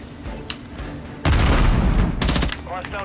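A rapid burst of automatic gunfire in Call of Duty: Modern Warfare 3 multiplayer cracks close and loud for about a second, with a shorter second burst following, over quieter game ambience.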